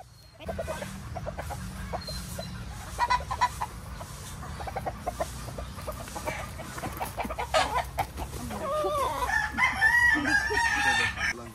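A Sweater battle cross gamefowl rooster crowing on a farm breeding area, a long drawn-out crow rising near the end over a steady background of clucking fowl and other bird noise.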